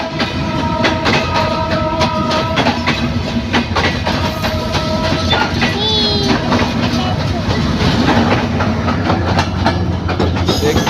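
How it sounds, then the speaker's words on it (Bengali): Two trains run together on the rails near Dhaka, with a steady loud rumble and rhythmic clickety-clack of wheels close by. A brief horn sounds midway, and a voice talks over the noise. "দেখতে পাচ্ছেন দুইটি ট্রেন একসাথে, একই ট্রেন।"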